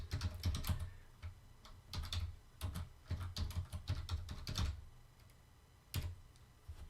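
Rapid keystrokes on a computer keyboard come in uneven bursts of clicks with brief pauses between, close and clear with no voices.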